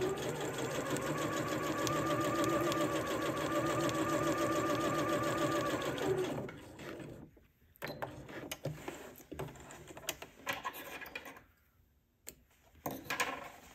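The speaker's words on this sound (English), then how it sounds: "2 rows of gathering stitches on my longest running stitch in the machine" Sewing machine running long gathering stitches through dress bodice fabric, a fast steady mechanical whir and rapid needle ticking for about six seconds, close and loud, then stopping, followed by soft handling noises and brief starts.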